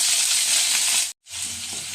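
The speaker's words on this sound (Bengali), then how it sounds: "এখন এটার মধ্যে কিছুটা আলু ভেজে নিচ্ছি।" Sliced potato strips fry in hot oil in a Bengali kitchen, a loud, close, steady sizzle that cuts out briefly and then resumes.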